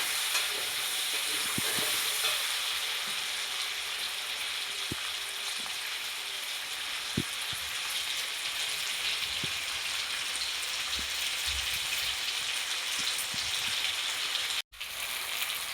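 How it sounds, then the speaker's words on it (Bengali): Potatoes fry in hot oil with a dense, steady hiss that carries on for about fifteen seconds, with a few faint taps under it, then cuts off abruptly near the end. "এবার তেলটা গরম হয়ে গেলে আমি আলুগুলো ভেজে নেব"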